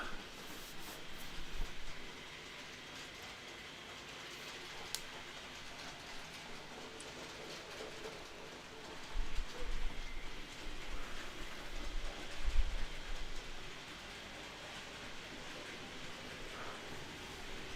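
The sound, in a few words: model train running on layout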